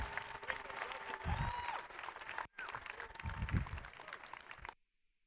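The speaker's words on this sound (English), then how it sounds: "please give one more huge round of applause to my partner all day long, Josh Clark." Audience applause fills an awards ceremony, dense clapping that swells near the middle, dips briefly, then resumes before cutting off abruptly, with faint voices mixed into the crowd.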